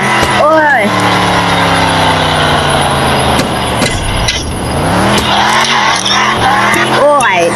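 A car in the video game Dude Theft Wars speeds along and skids, its engine note climbing and falling while tires squeal in repeated sweeping bursts, loud and close, with a voice talking over it.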